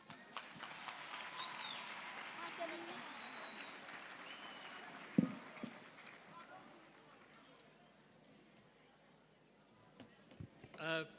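An audience at a National Science Month launch ceremony claps for two high school teams, a fairly quiet, diffuse round of applause that dies away midway, followed by scattered thuds and brief rustling.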